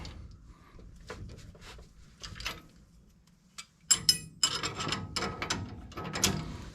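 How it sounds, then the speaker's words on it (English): Ratchet snugging the disc brake caliper bracket bolts on a 1965 Ford F100 during a disc brake conversion, heard as scattered metallic clicks and clinks that grow busier and louder in the second half, close by with no talking. "So I'm just going to cinch them all down, and then I'm going to put the torque wrench on."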